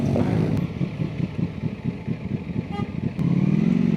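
A Ducati Panigale V4S sports motorcycle engine burbles with a rapid, pulsing exhaust note close by, then rises into a steady higher drone, with traffic around.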